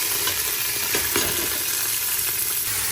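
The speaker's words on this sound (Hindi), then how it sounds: "जब लहसुन हल्का ब्राउन हो जाए फिर इसमें गोश्त डालेंगे" Beef pieces sizzling and frying after being added to lightly browned garlic in a pan, a steady crackling hiss with a few stirring scrapes, close and moderately loud with no talk.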